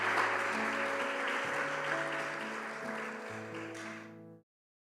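Congregation applause during a church sermon, a broad wash of clapping that runs under sustained organ or keyboard chords, moderately distant, then stops abruptly.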